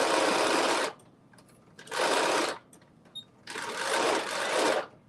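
Sewing machine stitching a skirt, three loud bursts of rapid whirring stitches separated by short pauses with faint clicks, close up.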